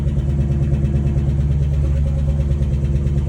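A car engine idles steadily at about 1,000 RPM, a continuous low, even rumble with a slight regular pulse, heard alone without talk.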